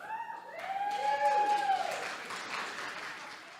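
Scattered clapping from the back rows of a live comedy podcast audience in a large, deep theater, rising to a moderate swell then thinning out, with some crowd murmur mixed in.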